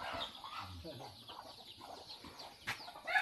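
A chicken clucking nearby, with short soft clucks scattered through the clip amid people talking outdoors.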